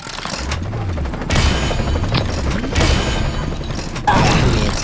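Springy shotgun firing in the mobile shooter Pixel Gun 3D: a few loud, booming blasts with mechanical clatter and bouncy springy tones between them, all close and alone.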